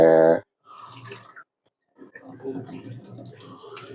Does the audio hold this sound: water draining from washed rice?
yes